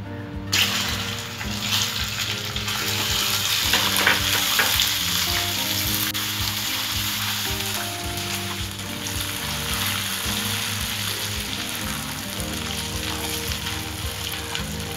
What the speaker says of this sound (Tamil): இப்போ நாம் ஸ்டவ் ஆஃப் பண்ணிவிட்டு இந்த பட்டரை சேர்த்துடலாம்.